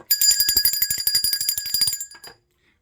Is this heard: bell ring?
yes